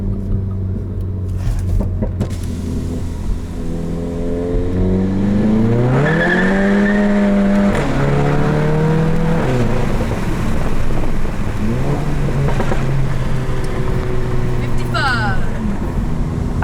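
A tuned 2015 VW GTI with an APR Stage 2 tune and DSG gearbox accelerates hard with its tires spinning. The engine note climbs and wavers loudly and up close, with some tire squeal and voices over it.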